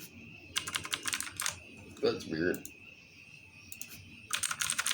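Bursts of clicky computer keyboard typing come and go, near and fairly crisp, with a short spoken remark in the middle and a steady faint electronic hum underneath.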